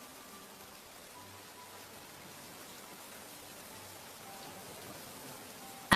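Rain falls softly and steadily in a village scene, a faint even patter with a low hum underneath and a brief knock at the very end.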